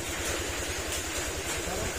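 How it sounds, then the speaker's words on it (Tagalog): A Honda Click 125 scooter engine idles smoothly after an overhaul, a steady low putter with an even pulsing rhythm, close and continuous throughout. "Ayan, tahimik na yung makina niya"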